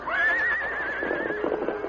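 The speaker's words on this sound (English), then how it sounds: "Suddenly, the horse plunged wildly and whinnied." A horse whinnies loudly and alone in a grove, a high wavering neigh that trails off into lower snorting, close and clear.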